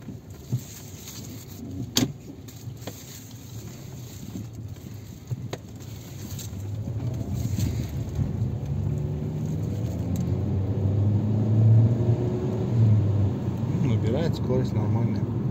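A Kia K5 sedan pulls away and accelerates after a connecting-rod bearing replacement that fixed an engine knock; a low engine rumble swells steadily and stays strong toward the end, with faint voices underneath.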